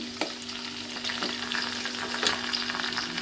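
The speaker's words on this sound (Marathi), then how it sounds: "हिरवी मिरची छान परतून घ्यायची आहे।" Chopped green chillies sautéing in a pan for methi bhaji give off a continuous close sizzle, punctuated by a few sharp scrapes and taps of a spatula stirring them.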